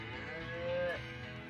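Cattle on a ranch in the video game Choices: Unbridled give one long, close, steady moo that swells in the middle and then fades, with no speech over it.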